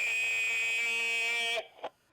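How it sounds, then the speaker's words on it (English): Buzzer sounded as a cue in a group workout class, a single harsh, steady electronic tone held for about a second and a half before cutting off, followed by a short faint thump. "So this buzzer is what I'm going to call a cue."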